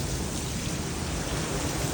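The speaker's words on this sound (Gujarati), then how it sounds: "કેટલો વરસાદ પડે છે બહુ" Heavy rain and wind in a severe storm: steady, dense rain noise hisses throughout, broad and even, with a slight swell in loudness at the very end.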